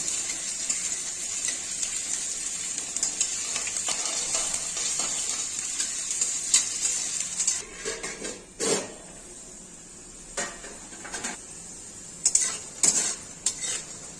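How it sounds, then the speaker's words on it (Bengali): Potato pieces fry in hot oil in a pan for a potato and pointed gourd curry. A bright, steady sizzle fills the first half, then gives way to quieter frying broken by several sharp spoon scrapes and clinks. "আস্তে আস্তে আলুগুলো ছেড়ে দিচ্ছি তেলের মধ্যে।"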